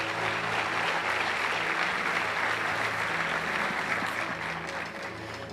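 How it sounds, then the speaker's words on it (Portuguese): A church congregation breaks into dense, sustained applause after worship music, a continuous wash of many hands clapping that thins slightly toward the end. "Vamos aplaudir a Jesus pelo nosso louvor maravilhoso."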